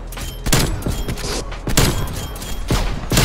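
Sniper rifle fire in Black Ops Cold War. Three heavy, booming shots land at roughly one-second intervals, each followed by a rumbling tail over continuous game noise.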